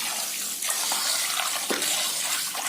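Two tumblers of rice are washed in water in a home kitchen, with a steady close splash and swish of water running and sloshing through the grains.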